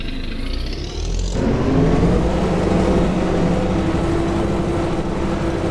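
A truck in Farming Simulator 25 starts up and drives off, its engine rising into a steady, loud drone with a faint rattly hum underneath.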